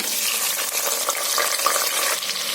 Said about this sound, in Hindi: प्याज को हम हल्का गुलाबी होने तक फ्राई कर लेते हैं